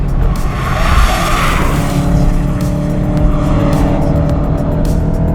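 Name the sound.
car braking hard on track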